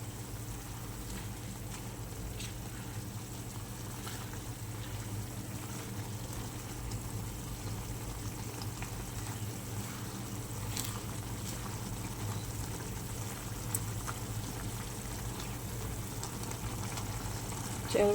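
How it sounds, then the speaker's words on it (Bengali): A fish curry with fried fish bubbles steadily in a covered pot on a gas stove, a low continuous simmering hiss and patter that holds even throughout. "দেখো বেশ সুন্দরভাবেই ফুটে গেছে"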